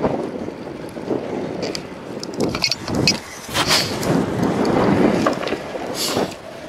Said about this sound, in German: Ja, der Wind hat jetzt ganz schön zugenommen.